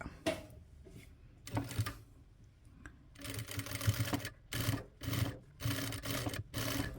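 A sewing machine stitches fabric pieces onto a doormat base in several close bursts, short at first and then longer and more frequent, with quiet pauses between runs.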